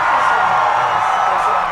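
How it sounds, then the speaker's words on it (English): Crowd reacting on an election night broadcast: a steady, dense wash of many voices murmuring and calling out at a distance, continuous and unbroken for the whole moment. "I think you can hear the crowd reaction."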